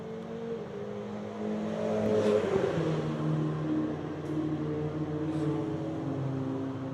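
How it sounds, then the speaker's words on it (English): Race cars battle past on a circuit during the Border 100, their engines a steady, droning roar that swells slightly as they come through, heard from a moderate distance. "as the battle of Matthew Rowe and Michael Radloff come through"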